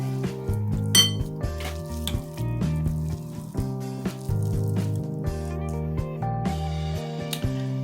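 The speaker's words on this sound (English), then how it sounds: "we're just going to go ahead and mash them while they're hot" Hot boiled potatoes with salt being mashed in a bowl: a steady run of dull thuds and clinks from the masher hitting the bowl, fairly close and continuous, with almost no talk.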